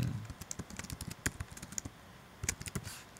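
Quiet, close typing on a computer keyboard during website setup, irregular keystrokes in short clusters with a few sharper clacks and no talk.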